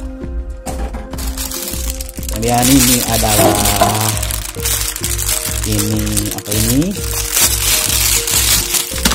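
Styrofoam protective packing foam from an Epson L3110 printer box is handled, giving continuous crinkling and squeaky creaking close by, mixed under steady talking.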